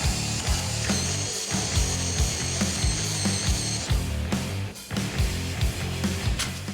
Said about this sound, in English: we'll use a bristle disc to clean it up and it'll be ready for paint